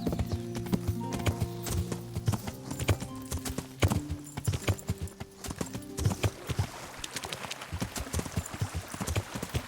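Horse hooves clip-clop steadily in Kingdom Come: Deliverance, a close rhythmic trot over a bed of game music, with a brief whinny-like sound partway through.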